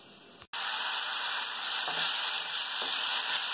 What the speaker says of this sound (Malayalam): നല്ലതുപോലെ ഒന്ന് സോട്ട് ചെയ്തെടുക്കാം.